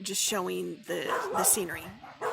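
Dogs bark and whimper near a log cabin style restaurant with a large patio, short yips and howl-like cries mixed in while someone talks over them throughout.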